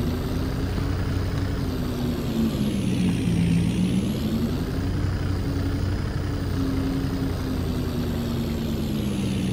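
A truck in the video game Farming Simulator 22 runs in a loud, continuous drone with a low engine rumble and a hissing, slowly wavering whine that dips and rises in pitch throughout, without a distinct brake release.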